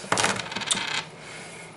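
Several dice clatter and tumble across a hard surface during a rerolling turn of a dice game, a quick burst of rattling clicks that fades to quiet within a second, with no talking.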